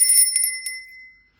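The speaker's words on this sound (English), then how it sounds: "this beautiful triquetra bell" A small triquetra bell on a witchy altar rings with a few quick bright strikes, then a clear high tone rings out and fades to silence, close and alone.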